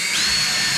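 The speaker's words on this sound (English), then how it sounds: "you just have to make sure you drill straight." A power drill bores a hole for a drawer handle, making a brief, steady high-pitched whine that holds an even level throughout.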